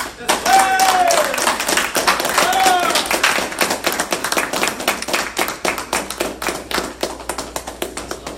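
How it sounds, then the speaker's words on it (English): A crowd applauds loudly and continuously, with a couple of brief whistles early on, the clapping thinning toward the end. "giving him a wonderful round of applause"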